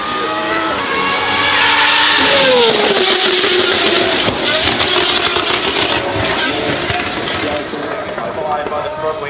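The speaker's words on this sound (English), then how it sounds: "So this has the greatest sound of all the Gordon Murray Automotive, but it's free exhaust" Gordon Murray T50 hypercar on a free, unrestricted exhaust driving flat out, its high-revving engine a loud, piercing wail with rising and falling pitch sweeps as it shifts, heard close, with a voice talking over it.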